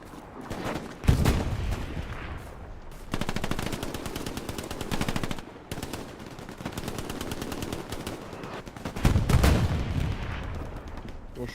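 Bursts of automatic machine-gun fire and scattered gunshots in the World War II shooter Hell Let Loose, loud and close, with sustained rattling volleys broken by heavier booms and brief pauses.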